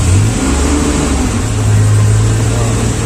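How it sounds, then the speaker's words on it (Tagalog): A vehicle engine running with water poured on it to show vibration, a loud steady mid-pitched hum with a slight swell partway through, close by and continuous with no talking. "para makita mo kung malakas yung vibrate na makina"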